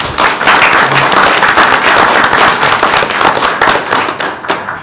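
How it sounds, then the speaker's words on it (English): Steady applause from a crowd at a board meeting, dense clapping that fills the room at full volume for several seconds without pause. "Let's give them a round of applause."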